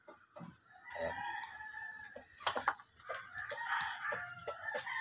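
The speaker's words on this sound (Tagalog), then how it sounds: "Ayan nga pala yung manok ko." Backyard chicken clucking and crowing in short bursts, fairly close, with layered calls from a small flock of hens and chicks, no talk over them.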